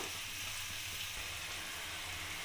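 Onion, green chilli and tomato fry with ginger and garlic in a pan, a dense, continuous hiss of sizzling oil close up that holds level throughout with no voice.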